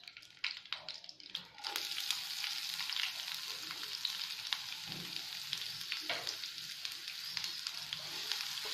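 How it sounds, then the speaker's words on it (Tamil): Onions frying in hot oil with fennel seeds and curry leaves make a dense, continuous sizzle that starts abruptly after a few stirring taps and stays loud and close, with occasional scraping of a spoon. "போட்டுக்கோம். கொஞ்சம் ஃப்ரை பண்ணிக்கோங்க."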